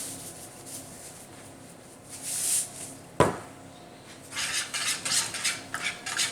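Utensil stirring leek tart filling in a mixing bowl, with scraping clinks against the bowl, one sharp knock near the middle, then busier rattling toward the end.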